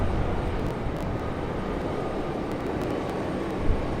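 A Frontier airliner arriving at Raleigh-Durham airport on a windy day, heard as a continuous low, broad jet roar, moderately distant and fairly even throughout with no talking.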